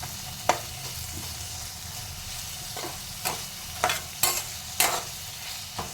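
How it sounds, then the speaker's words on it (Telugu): Tomatoes and green chilies fry in a pan for egg fried rice, with a steady sizzle broken by occasional sharp scrapes and stirring knocks of a utensil against the pan. "ఇప్పుడు అన్నీ బాగా టమోటాలు, పచ్చిమిర్చి అన్నీ వేసి ఒక 5 నిమిషాల పాటు వేయించుకోవాలి"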